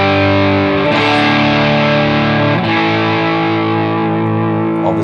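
Electric guitar on a neck single-coil pickup driven through an Xotic SL Drive overdrive pedal set to mid gain, one loud, thick distorted chord ringing steadily for about five seconds with a couple of faint re-picks.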